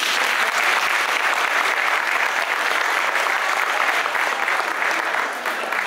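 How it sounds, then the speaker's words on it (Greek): Hall full of guests applauding at an annual dance of a Greek sports club in Loutro, thick continuous clapping at an even level throughout that eases slightly at the very end. "Ένα χειροκρότημα παρακαλώ."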